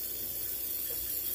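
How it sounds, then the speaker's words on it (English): A pressurized oil mister sprayer releases a continuous hissing spray in a home kitchen baking setup, steady and fairly close with no talk over it. "I'm just going to take it and spray"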